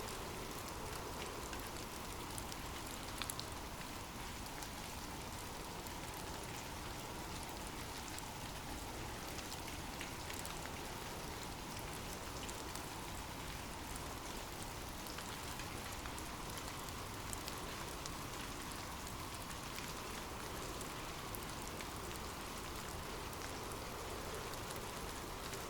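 Steady rain falls as a dense, even hiss that carries on unbroken for nearly half a minute, soft and constant with no voices.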